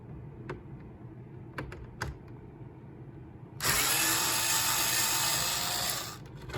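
A power screwdriver removing screws from the interior dashboard of a 2012 Range Rover Sport SDV6, first a few faint clicks and taps, then a loud steady whir lasting about two seconds before it stops, up close.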